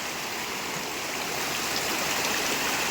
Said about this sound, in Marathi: उलटा कर पाणी जाईल लगेच